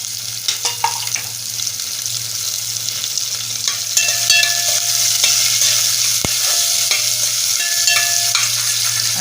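Long-sliced onion and a bay leaf fry in a pan with spiced masala. A steady sizzle and crackle runs throughout, with occasional stirring clinks.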